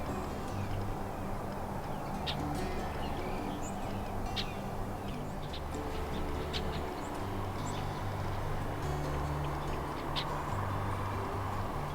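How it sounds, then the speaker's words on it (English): Red-winged blackbirds and song sparrows sing at a trail beside a reservoir at golden hour. The calls are faint, brief and scattered, and they sit over a steady low background hum. "There's a lot of red-winged blackbirds."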